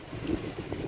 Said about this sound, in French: Mais comme je vous disais, il y a du vent.